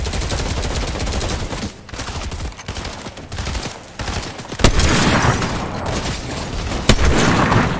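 Fortnite gunfire comes in loud, dense bursts of rapid automatic shots with a few heavier booming reports. Brief lulls break up the sustained firing.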